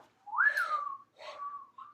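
A person whistles an imitation of a mourning dove call: a rising then falling sustained note, followed by two shorter falling phrases, close and clear with no talk.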